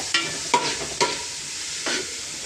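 Chopped onions frying in a pan, a soft steady sizzle broken by several sharp scraping stirs of a spoon at irregular moments, close and moderately loud with no talking.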